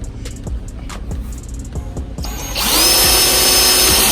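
A power drill whirs up loud and steady after a couple of seconds of light tapping and handling noises, running continuously to the end, drilling into a 2007 Chevrolet Suburban to fit courtesy lights.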